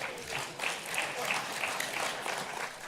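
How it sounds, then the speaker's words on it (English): Conference audience applauding at a political party conference session, steady broadband clapping sustained for the full few seconds, moderately loud and fairly even, with some voices mixed in. "I just said that so I'd get a round of applause at some point during the day"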